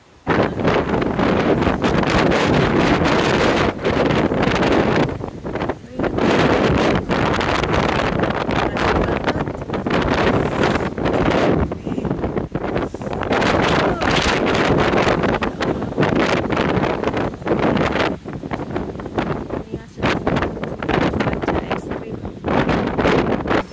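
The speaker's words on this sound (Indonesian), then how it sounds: "Lihat, anginnya kenceng banget." Strong wind buffets a simple house in a storm, roaring loudly and steadily throughout with gusty surges and rustling, plus brief dips in force.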